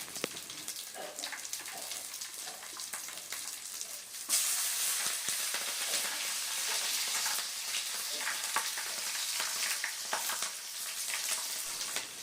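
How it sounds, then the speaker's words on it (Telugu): Garlic cloves and green chilies frying with cumin seeds in hot oil, a dense crackling sizzle that jumps louder partway through as the ingredients hit the pan and keeps spattering steadily. "జీలకర్ర బాగా వేగిన తర్వాత దాంట్లో కొద్దిగా వెల్లుల్లిపాయ రెబ్బలు పచ్చిమిరపకాయలు కూడా యాడ్ చేసుకోవాలండి"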